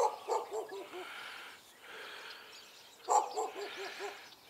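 Dogs bark outdoors in short bursts, several yaps grouped near the start, middle and end, moderately close and fairly clear over a quiet background.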